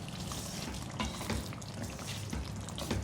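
Mutton karahi masala with green chillies and julienned ginger is stirred in a hot pan, sizzling steadily with soft scraping strokes about once a second and no one talking.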